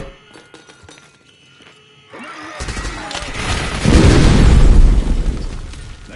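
Grenade explosion in the Black Ops 6 shooter game: after quiet clicks and faint noises, a loud blast erupts into a deep, rolling boom that peaks and slowly decays with rumbling debris.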